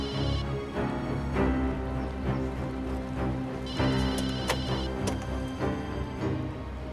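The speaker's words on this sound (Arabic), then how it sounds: "رد على التليفون يلا، هيا." A telephone rings indoors in a dramatic household scene, its trilling tone coming in two separate bursts over a steady background bed of sound.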